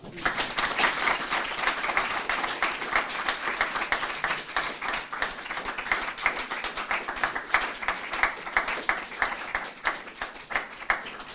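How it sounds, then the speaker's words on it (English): Sustained audience applause at a classics summer school event, many hands clapping steadily and densely for several seconds, filling the room without pause. "Can we have a round of applause for that?"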